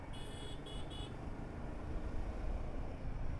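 Steady road traffic rumbles on a busy Bangalore road with trucks passing, a broadband wash of engines with a few brief horn toots early on, moderately distant and without talk.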